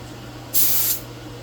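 A single short burst of hissing spray from a paint spray gun applying Rust-Oleum tractor paint to a car, close and loud, lasting under half a second before cutting off.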